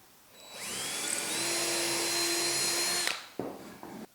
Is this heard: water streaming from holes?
no